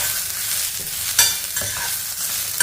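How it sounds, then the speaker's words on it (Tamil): Vegetables sauté loudly in a pan, a constant crackling sizzle broken by scraping stirs and occasional clinks of a utensil, with no talking. "எல்லாத்தையும் நல்லா வதக்கிக்கிறோம்."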